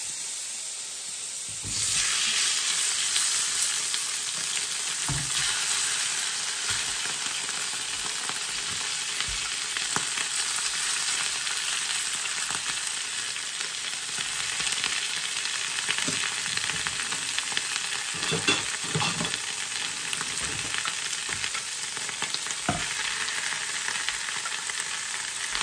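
Potatoes fry in a smoking-hot oiled pan, giving a loud, steady sizzle and hiss that holds throughout with small crackles and pops, no voices present.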